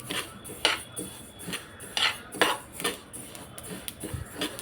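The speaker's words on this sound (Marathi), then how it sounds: "आता तीळ भाजून घेऊया" A spoon scrapes and clinks against a pan in an irregular rhythm as sesame seeds are dry-roasted for tilgul poli, with close, sharp metallic taps over a soft background hiss.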